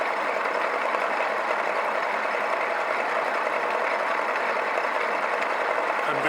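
A milling machine runs very slowly while thread milling a clamp, giving a steady, even mechanical whir that holds at constant loudness throughout, with no talk.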